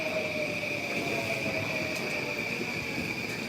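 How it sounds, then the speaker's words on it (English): A Yamanote line train rolls past Harajuku Station in Tokyo, a steady close rumble of wheels and cars with a high whine running throughout, no voices. "Let's let this train pass."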